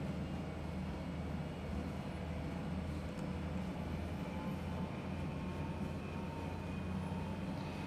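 A diesel locomotive runs in Train Sim World 2 on the Sand Patch Grade, a steady, droning engine rumble with rail noise that stays level throughout, with no talking.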